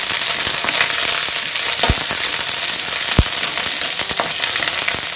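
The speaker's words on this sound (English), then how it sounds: "once the oil gets heated up, add curry leaves to it and saute it once" Curry leaves sauté in heated oil while homemade masala powder is being made. Loud, crackling sizzles continue throughout, with a couple of sharper pops standing out from the steady frying hiss.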